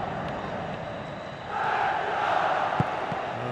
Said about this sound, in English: give this crowd something